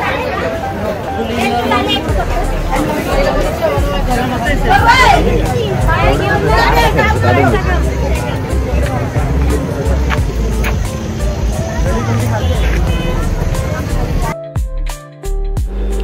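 Dense crowd hubbub at a busy Trimbakeshwar temple area near Nashik with construction work nearby, many overlapping voices and background bustle continuing steadily, briefly cutting out near the end.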